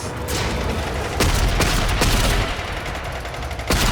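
Continuous video game gunfire shooting green buttons in Kela De Thaym's Court, a dense, loud rattle of rapid shots with a few sharper cracks standing out, with no talk.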